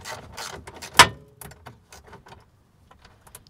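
A 10 mm screw is backed out of a Lexus GX470 fog light housing with a hand tool: light mechanical clicks and rattles, one sharp knock about a second in, then sparse faint ticks.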